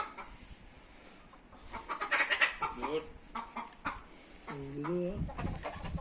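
Aseel Indian game roosters and hens cluck and squawk at close range in short bursts, with one drawn-out call near the end, while people talk quietly.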